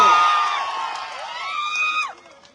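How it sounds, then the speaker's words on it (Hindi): A crowd at a public political meeting in Solapur cheers and whoops loudly, with rising yells and shouts up close, swelling toward the end before cutting off. "जोरदार तालियों से।"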